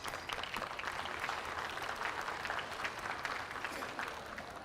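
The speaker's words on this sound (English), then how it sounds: "Big round of applause for them." An audience at a livestock show for sheep and goats applauds with faint, distant, continuous clapping that holds steady throughout, with little talk above it.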